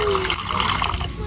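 Water trickles and splashes briefly as a little is poured into a squid marinade of soy sauce, oyster sauce, cracked pepper, sesame oil, chicken powder and rosemary, a short close pour with some voice present.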